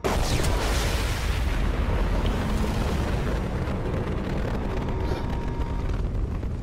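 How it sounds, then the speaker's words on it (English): A YMIR mech detonating like a mini nuke in a video game, one sudden loud blast that rolls into a long, deep, rumbling roar and slowly fades. "Yeah, the mini nuke exploding."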